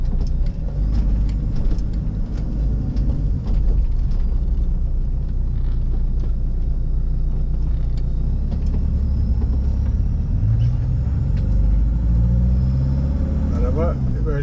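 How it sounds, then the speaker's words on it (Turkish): A deep, loud engine rumble with a throaty exhaust drone runs throughout from a 2004 Fiat Ducato camper van with its exhaust removed, with people talking over it. "Eminim şu anda motor sesi daha çok geliyordur."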